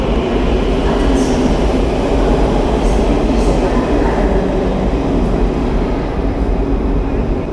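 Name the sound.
Quito Metro subway train passing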